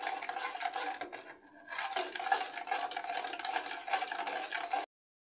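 A milk and sugar mixture stirred in a pot as it thickens into mawa, with a steady bubbling simmer and scraping under a brief quieter gap, fairly close and continuous.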